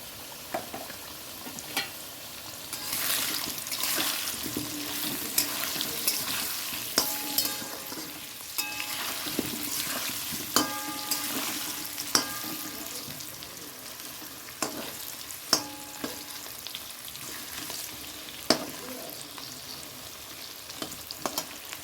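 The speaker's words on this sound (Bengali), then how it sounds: "আলুটা ভাজা হয়ে গেল" Potatoes fry in a pan, seasoned with salt and turmeric, with a steady broadband sizzle and clear metallic clicks and scrapes from stirring throughout.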